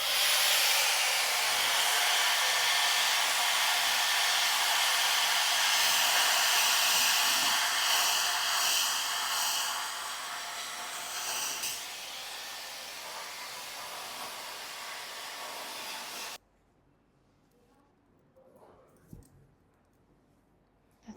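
A hair dryer blows loudly on the small bio base of a hair topper, a steady close hiss running for about sixteen seconds before cutting off to near silence with a few faint handling sounds.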